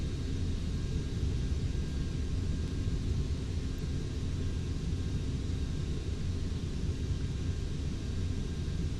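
The engines of a Boeing 727 in the flight simulator FSX roar in a steady, dense low rumble during the climb after takeoff, constant and unbroken with no voices.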